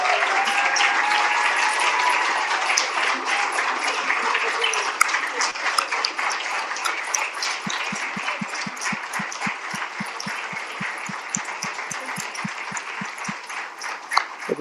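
A city council chamber audience applauds a retiring staff member with loud, sustained clapping that runs the whole length and grows into more distinct individual claps toward the end.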